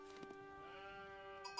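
Sheep bleating in Age of Empires 4 as scouts herd them, several short bleats over steady in-game ambient music and tones, fairly soft.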